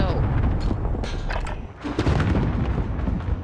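Gunfire crackles and booms in a Call of Duty match, a dense burst of shots and blasts near and loud with some talk mixed underneath.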